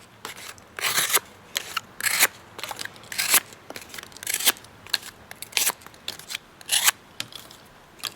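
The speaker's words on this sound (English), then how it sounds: "Cutting paper and or cardboard will dull your edge." A knife blade slicing through paper and cardboard, giving a series of crisp, crackling cuts in an irregular rhythm, close up and with no talking.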